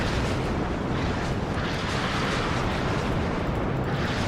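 Artillery rumbles through a WARNO battle as a dense, continuous low roar of explosions, steady and loud throughout with no distinct separate blasts.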